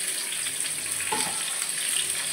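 Boiled jackfruit pieces fry in hot oil with a continuous, even sizzling hiss, steady and fairly close, with no voices over it.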